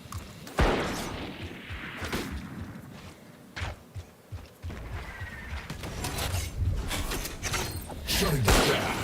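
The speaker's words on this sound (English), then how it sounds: "Flashbang." A flashbang detonating in the tactical shooter Valorant, a sharp burst followed by scattered thuds, footsteps and weapon clatter of a round in progress, with other game effects swelling toward the end.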